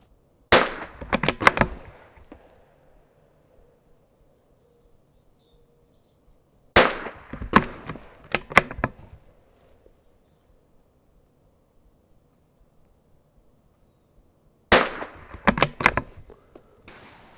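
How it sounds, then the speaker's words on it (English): A CZ 455 Tacticool rimfire rifle fires at an outdoor rimfire range in three separate volleys of several sharp, closely spaced cracks, with long stretches of near silence between them. "I'm gonna go ahead and run some rounds right now and make sure that I know my zero"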